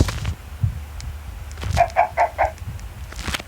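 Chickens in Minecraft cluck in a quick run of four short, evenly spaced clucks over a low, murmuring background.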